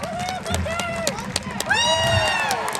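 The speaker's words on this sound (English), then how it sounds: "while we make lots and lots of noise for Bunker, let's cheer her on" Aquarium crowd cheering during a sea lion show for Bunker, loud continuous shouting and whooping from many voices, with children's high squeals rising over the noise.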